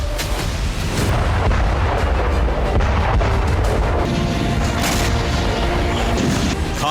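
Heavy artillery bombardment in wartime fighting near Kharkiv, with dense, continuous booms and rumbling blasts at high loudness throughout, sharper reports standing out here and there.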